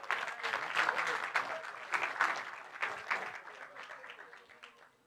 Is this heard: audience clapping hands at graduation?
yes